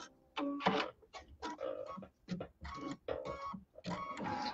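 An embroidery machine stitching a decorative pattern on a Christmas quilt block rattles in rapid, choppy mechanical bursts with brief pauses, close and fairly loud.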